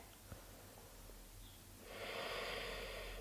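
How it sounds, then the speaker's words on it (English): Quiet breathing during a vinyasa yoga flow: soft room tone at first, then a steady, airy exhale swelling up near the microphone in the second half. "Breathing here."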